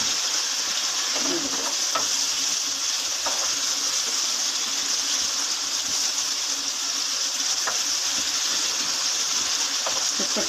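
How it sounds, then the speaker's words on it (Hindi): Small pieces of fish frying in a pan, giving a steady, continuous sizzle with faint occasional crackles, close and unbroken throughout with no talking. "इसको अच्छी तरह भून लेंगे।"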